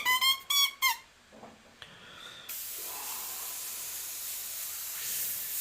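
An airbrush sprays paint onto a mask, a steady close hiss of air that starts after a few brief tones and clicks and then holds evenly to the end.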